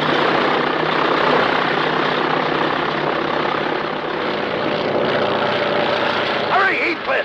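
A propeller airplane circles overhead in the 1941 comedy film Keep 'Em Flying, its engine a loud, continuous drone that swells and fades slightly, with people talking over it.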